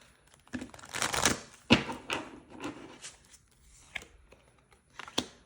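Soft riffling and snapping of tarot cards being shuffled, a cluster of quick papery flicks followed by scattered taps, close and quiet with no voices.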